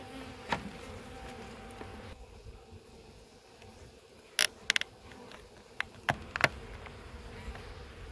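A package of honey bees buzzes in a steady, close, continuous drone, with a few sharp creaks and clicks of wood being pried up as the bees are installed.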